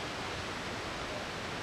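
Forest creek water rushing steadily over rocks, a close, even broadband wash with no breaks or other sounds.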